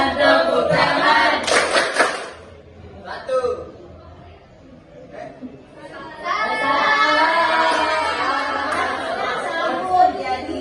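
Students in a classroom clap together in a 369 icebreaker game: a loud burst of clapping at the start, then a quieter stretch, then sustained clapping mixed with lively chatter and laughter.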